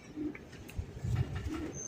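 Racing pigeons, a female among them, coo in low soft bursts close by, a few muffled murmurs spread over a couple of seconds with faint background noise.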